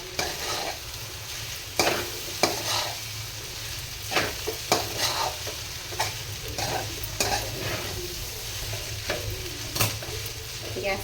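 Hakka noodles stir-fried and tossed in a hot pan, a continuous sizzle punctuated by frequent sharp scrapes and clanks of a spatula mixing the noodles, close up with no voices.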